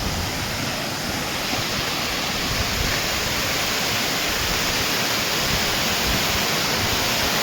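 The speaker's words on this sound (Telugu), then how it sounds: "ఒకసారి వాటర్ ఫాల్స్ చూపిస్తా చూడండి స్వామి." The waterfall at Siddha Ramappa pond in Srisailam roars in a dense, unbroken rush of falling water, loud and close, with no voices heard over it.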